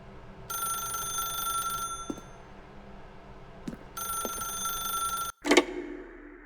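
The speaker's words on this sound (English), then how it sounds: "then pick up the phone." In The Stanley Parable, a telephone rings in two long electronic bursts separated by a pause, fairly quiet and alone, followed by a click as the receiver is picked up.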